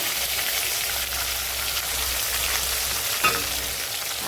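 Brinjal slices frying in oil in a covered pan give a steady, dense sizzle throughout, close and fairly loud, with one brief sharper pop near the end and no talking.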